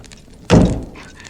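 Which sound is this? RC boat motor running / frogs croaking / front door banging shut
front door banging shut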